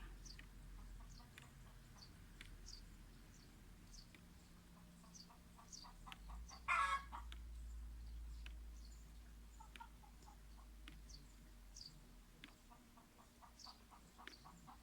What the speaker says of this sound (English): Apologies for the chickens in the background.